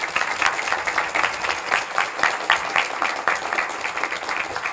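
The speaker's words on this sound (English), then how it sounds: "So a little bit of an applause to the supervisors." Audience applause at the closing ceremony of a student innovation event, a steady dense patter of many hands clapping at moderate loudness, filling the room continuously without talk over it.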